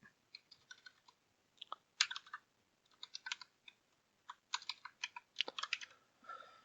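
Quiet bursts of typing on a computer keyboard, light rapid key clicks in irregular clusters separated by brief pauses, close and soft with no voices.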